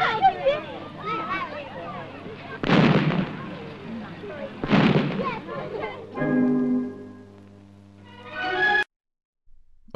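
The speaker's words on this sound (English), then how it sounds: "Perhaps it's the only way a vicar can fire a cannon." Fenny Poppers, small cast cannons fired on St Martin's feast day, go off as two loud, sharp booms a couple of seconds apart, breaking through steady talking that continues around them.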